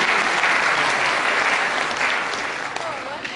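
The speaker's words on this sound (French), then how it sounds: "je vous demande aussi de les applaudir" Loud, sustained applause from an audience at a Journée du Savoir event in Dijon, thick clapping filling the room and tapering slightly toward the end, with murmured voices mixed in.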